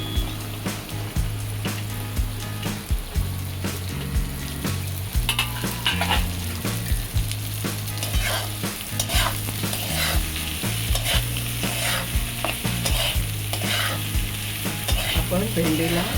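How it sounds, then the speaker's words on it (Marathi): Okra stir-fried with onion in a pan, a continuous close sizzle with repeated scraping and stirring strokes throughout, no voices. "आता त्यानंतर आपण भेंडी टाकून घेणार आहोत."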